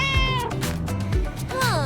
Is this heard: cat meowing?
yes